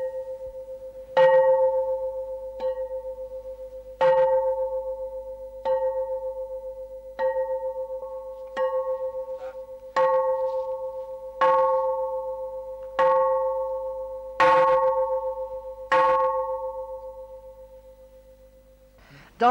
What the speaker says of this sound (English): Donald McInnes, tell me something about this bell you've just been ringing.